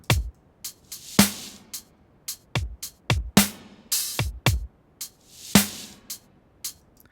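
A drum pattern of punchy kicks and sharp snares, with soft swelling reversed whooshes rising into several snare hits.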